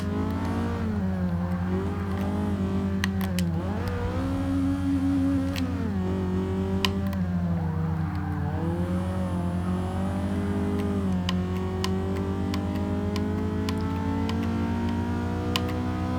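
A stock-engined 2003 Toyota Celica RWD drift build revs hard in Forza 6, its engine note climbing and dropping repeatedly through gear changes over a steady low drone, loud and close throughout.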